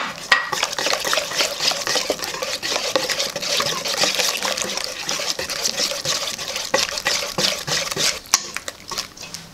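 Tuna mixture for a savory tuna cake is stirred in a bowl, giving a steady scraping, clinking churn that continues throughout at close range, with no voices.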